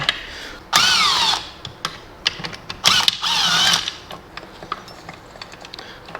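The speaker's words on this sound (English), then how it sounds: "we're just going to grab a bigger ratchet to undo it" A ratchet tool undoes bolts on a classic Mini remote gearbox during a rebuild, giving two loud, separate bursts of whirring with a rising and falling pitch, followed by scattered light clicks and taps.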